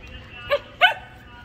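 A dog barks twice, short sharp barks about a third of a second apart, fairly close against a quiet background with no talking.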